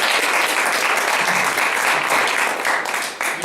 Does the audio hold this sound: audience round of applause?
yes